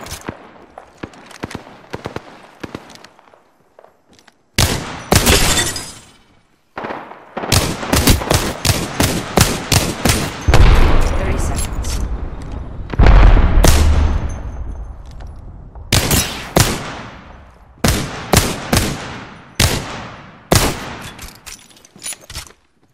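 Gunfire in Apex Legends with shots hitting the player: loud, rapid bursts of automatic fire in quick clusters, broken by brief pauses and a heavier rumbling impact midway.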